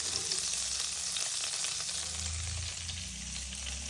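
Anjal fish fries in a pan, giving a steady, continuous sizzle of hot oil at close range with faint stirring sounds, no voices.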